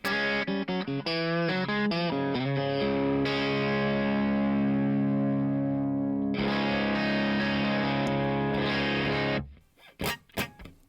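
Distorted electric guitar chords from a Marshall amp through an open-back Morgan cabinet in a garage ring out loud and full, sustaining for several seconds before fading into a few scattered plucks.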